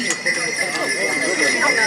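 Hooves of heavy cold-blooded draft horses clip-clop steadily at a carters' competition, with occasional whinnies and talk over a continuous background.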